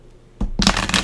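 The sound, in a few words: tarot cards being shuffled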